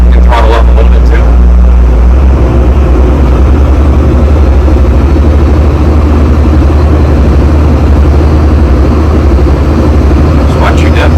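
A yacht's engine drones loud and steady at low pitch throughout, throttling up while under way, with a few brief sharper sounds near the start and end.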